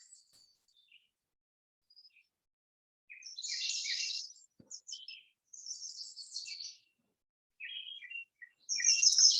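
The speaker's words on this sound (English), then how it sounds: "So many birds are singing." Many birds sing in a spring forest on a warm, breezy morning: scattered chirps at first, then louder, busier bursts of tweeting and trilling toward the end.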